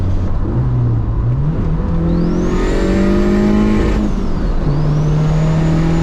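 A turbocharged 16-valve engine in a third-generation VW Golf GTI revs up, its pitch sweeping higher and holding before dropping and climbing again, loud and steady with a faint high turbo whine above, and no talk.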